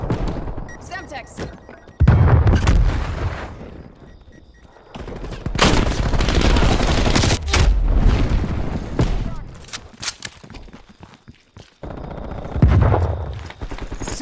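A Semtex grenade blast erupts amid rapid automatic gunfire in a Call of Duty match, loud booming bursts and rattling shots dominating while voices talk over the fight.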